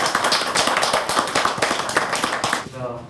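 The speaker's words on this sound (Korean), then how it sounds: "여러분 박수 한번 주실까요?" An audience at a startup policy talk gives a short burst of brisk clapping, close and fairly loud, fading out at the very end.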